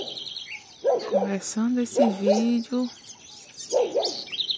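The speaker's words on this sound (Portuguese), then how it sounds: "canto dos pássaros" Birds chirp in short, high, repeated tweets at the start and end, partly masked by a person talking over them in the foreground.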